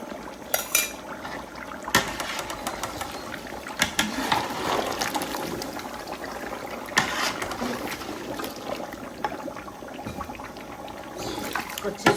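A spoon works whisked yogurt into browned meat in a cooking pot. Wet squelching stirs run continuously, with repeated scrapes and light clinks of metal against the pot, close by and at moderate loudness.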